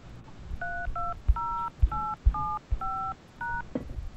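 A telephone keypad enters a voicemail passcode as eight short, evenly spaced two-tone beeps, clear and close, with faint thumps of the keys being pressed between them.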